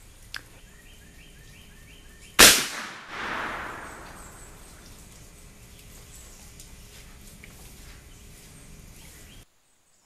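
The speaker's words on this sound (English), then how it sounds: "So I'm going to go and shoot the gun now." A single sharp gunshot from a Traditions Crockett .32 muzzleloading squirrel rifle outdoors while hunting, loud and close, followed by a rolling echo that fades over a couple of seconds.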